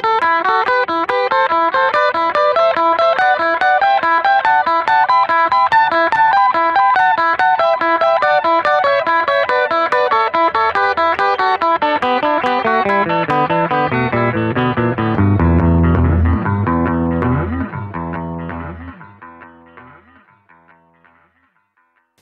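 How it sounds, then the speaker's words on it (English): An electric guitar solo run through a Sound Toys Echo plugin set to tube tape delay, rapid notes repeating in cascading echoes that pile up into a dense wash, then fade out alone. "So basically just plays a load of notes and lets the echo do all the work."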